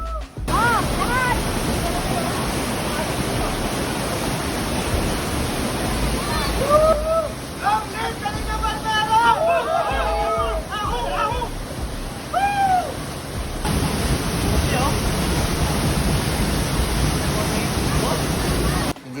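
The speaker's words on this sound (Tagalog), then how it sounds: "Ang lakas ng volume ng tubig, ang lamig." Strong, cold river water rushes steadily and loudly throughout at a swimming spot in Sitio Querosep, with people talking over the constant roar in the middle.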